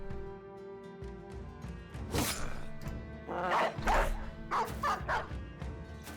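Dogs bark and yip repeatedly in a medieval battle video game, several sharp close barks in quick bursts over a droning music and combat background, with no talk.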